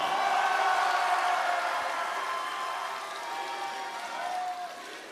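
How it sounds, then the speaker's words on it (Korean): Crowd applause at a Democratic Party joint campaign rally for the party leadership race, broad sustained clapping from a large audience that holds steady and then slowly tapers off. "청년들에게 응원의 박수를 보냅시다"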